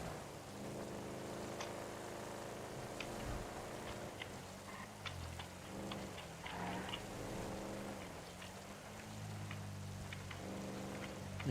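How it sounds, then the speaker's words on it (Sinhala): Rain falls in the video game GTA V as a steady, even hiss that runs the whole time, with a low rumble underneath and scattered small drop ticks. No one speaks. "වැස්සක් සෙට් වුණානේ."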